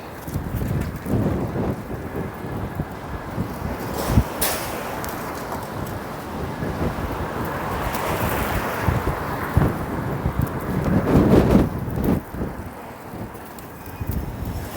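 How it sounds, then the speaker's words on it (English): Strong wind on a Toronto city street buffets the microphone with rumbling gusts that swell and ebb, loudest in bursts near the middle and later on. "Wow, this is pretty windy."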